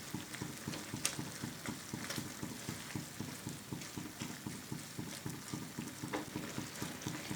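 Hog plums (amra) simmer in a pan over medium heat, a quiet, steady bubbling with a regular soft pulsing and an occasional light clink.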